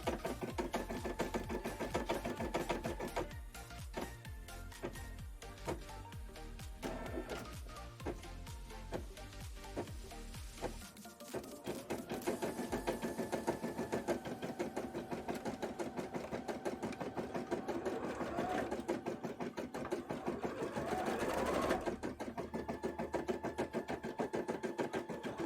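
Sewing machine stitching a bra cup, a close, steady mechanical hum with rapid needle chatter running continuously, briefly slowing and restarting midway, with no talking.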